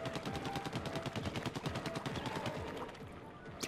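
Rapid, rhythmic bursts of ink-weapon fire from a shooter in the Splatoon video game, a steady stream of evenly spaced shots that thins out toward the end, fairly quiet overall.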